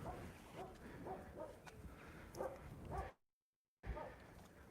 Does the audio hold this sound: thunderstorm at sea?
no